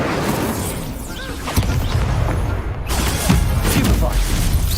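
Incendio fire spell cast in a Harry Potter video game, a burst of whooshing flame and crackling impacts layered with game noise and a speaking voice.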